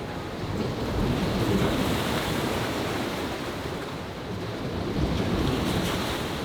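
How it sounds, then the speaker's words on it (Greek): Sea waves break continuously on a rocky shore, a broad rushing roar with gentle swells and some wind buffeting the microphone, steady and fairly close. "Και εκεί παντού βρέχει το κύμα."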